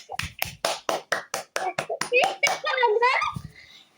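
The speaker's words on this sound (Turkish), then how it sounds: "Bir alkış." Hand claps at home, a dozen or so distinct sharp claps in an uneven rhythm, close and clear, with a voice talking partway through.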